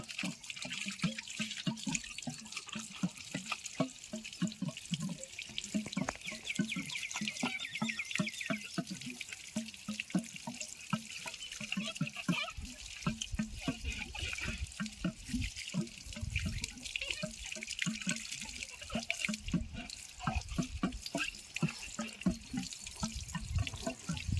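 Water runs steadily from a tap into a sink while a drip tank is being cleaned, a continuous splashing stream with small gurgles and drips and no talking.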